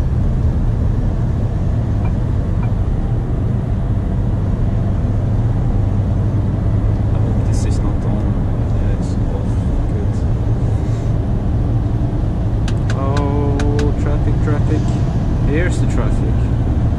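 A truck drives through the Southern Link road tunnel in Stockholm in rainy weather, its steady low engine and road rumble filling the cab as a continuous drone, with brief higher chimes and tones toward the end.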